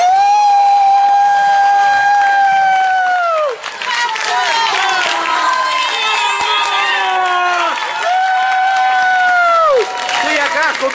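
An audience claps and cheers to welcome a guest at a live entertainment show, a dense, continuous patter of applause beneath loud, drawn-out shouting voices.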